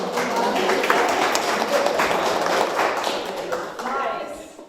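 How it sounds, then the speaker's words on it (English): Audience at a CreativeMornings meetup in Gothenburg gives a round of applause, steady clapping from many hands that tapers off near the end, with a voice faintly under it. "I'll give a round of applause for that"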